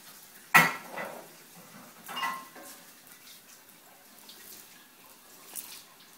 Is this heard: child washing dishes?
yes